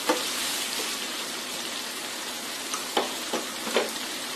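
Carrots and other vegetables sauté in a pan, a soft continuous sizzle with a few sharper stirring clicks and scrapes toward the end, close and fairly quiet, no talking.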